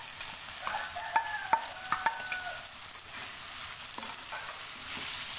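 Green mussels stir-fried in oyster sauce with scallions: a steady sizzle throughout, with a few sharp metallic clinks and scrapes of the utensil against the pan.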